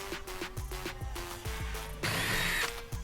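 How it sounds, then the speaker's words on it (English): A power drill bores a hole in a finished subwoofer enclosure for a GX 470, its motor pulsing in short repeated bursts and then holding one longer, louder grinding run, close and clear with no talk. "Having to create this hole with the drill and hand filing it into shape was a giant pain"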